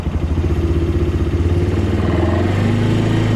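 A Can-Am ATV engine idles steadily with a mid-pitched rumble, and its tone shifts slightly as the machine is put into reverse gear, with no talk over it.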